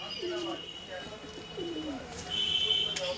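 Kalshira and Laljira breed racing pigeons coo softly in a few low, throaty phrases, with a faint steady tone in the background and someone talking over them.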